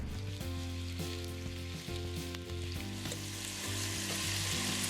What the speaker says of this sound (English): Cover the bottom of your pot with the fat and steadily brown the pieces of lamb all over